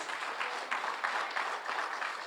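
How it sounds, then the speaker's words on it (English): A crowd at a community press gathering applauds in a steady, moderately loud wash of clapping, continuous throughout with no voices on top. "Y'all give a round of applause to Representative Jackson for her leadership"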